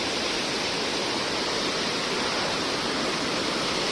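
Water pours over a check dam or spillway at Kanjar Cheruvu lake near Woddera Colony, Nizamabad, a steady, loud, broadband rush like a waterfall, filling the whole stretch with no break and no voices.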